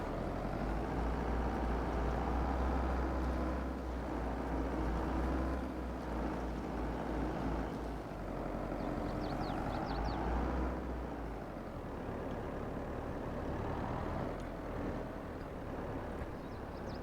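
Heavy bulldozer in Farming Simulator 22 rumbling over bumpy ground while building a gravel road, a steady deep engine drone with low rattling thumps that holds loud throughout and shifts pitch slightly as it goes.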